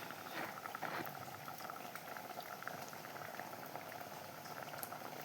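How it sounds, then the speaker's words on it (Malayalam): A pot of coconut-ground mackerel curry bubbles at a rolling boil, a steady dense gurgle and pop of liquid that continues without pause, heard close and moderately quiet with no voices. "അപ്പോൾ നന്നായിട്ട് തിളക്കുന്നുണ്ട്."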